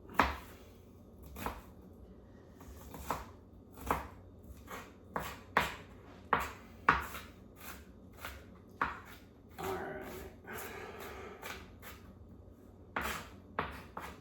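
A kitchen knife dices ingredients for meatloaf on a cutting board, giving a steady run of crisp, close chops with brief pauses and a short scraping stretch midway.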